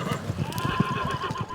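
A herd of frisky horses on a frosty May morning in western Colorado, whinnying and snorting close by amid shuffling hooves.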